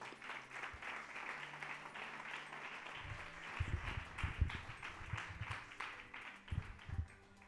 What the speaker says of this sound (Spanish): Fuerte el aplauso para el Señor.